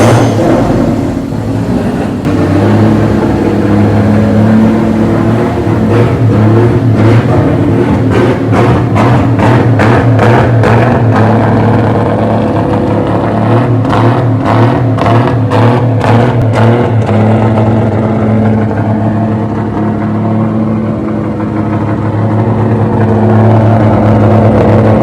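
An engine in a Nissan A31 build is fired up and revved repeatedly, loud and close, with a steady idle rumble broken by a series of quick throttle blips.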